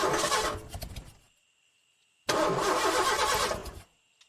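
A car's starter cranking as the key is turned: two loud grinding bursts separated by a pause of about a second, each cutting off without the engine settling into an idle.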